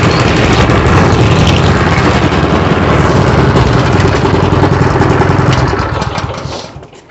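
A Honda GX160 engine on a repaired plate compactor runs loud and close, a dense continuous roar with pounding rhythm, holding steady before fading out over the last seconds.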